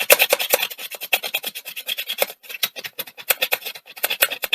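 Fast, rhythmic rasping as a fiberglass brush scrubs a metal part from a Sony WM-FX41 Walkman, with close, repeated strokes and a short pause midway.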